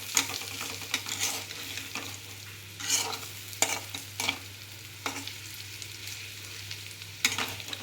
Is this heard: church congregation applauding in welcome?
no